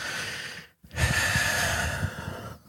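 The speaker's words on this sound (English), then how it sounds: "Nice deep breath." A single slow, deep breath taken during a calm EFT tapping session: a soft airy intake after a brief pause, then a long breathy exhale, close and fairly quiet, with no talk.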